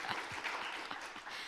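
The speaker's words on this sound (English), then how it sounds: "So can we give Chris a little round of applause?" An audience at a tech team gathering gives a modest round of applause, scattered hands clapping at moderate distance, fairly soft and short.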